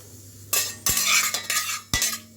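A metal utensil stirs crackling mustard seeds frying in a pan for sambar, with loud, close scraping sweeps in an uneven rhythm and a steady sizzle underneath.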